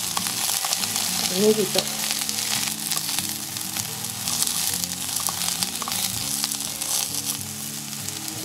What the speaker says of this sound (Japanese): こんな感じで、はじめはひっくり返す感じでお餅をしっかり焼きます